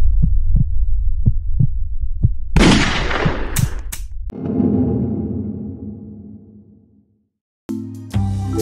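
A gunshot in the Roblox Piggy game comes after a run of low, soft, evenly spaced thumps: first a loud cracking burst, then a long decaying rumble that fades into silence, and a final short bright sound.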